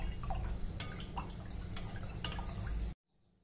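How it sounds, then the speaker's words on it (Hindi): Water is poured into a tamarind rasam in a home kitchen, giving a close, continuous splashing and dripping with a low rumble that stops abruptly near the end. "थोड़ा सा पानी मिलाऊंगी।"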